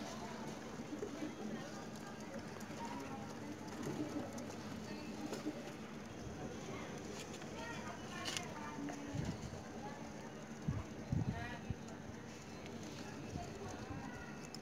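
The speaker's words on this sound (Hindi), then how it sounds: "तो ये कबूतर आपके सामने है।" Punjabi high-flyer pigeons coo and flutter amid a busy, noisy loft, with people talking throughout and a few sharper knocks near the end.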